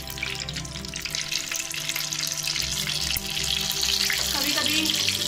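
Stuffed brinjals sizzle in an open pan on the stove, a steady close frying crackle with watery spatter that grows a little louder partway through, with faint voices in the background.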